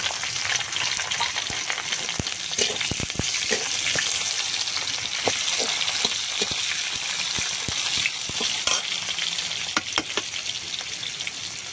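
Onion fries in oil after spices have been tempered, making a dense, continuous close sizzle broken by frequent clicks and scrapes of stirring, with no talk.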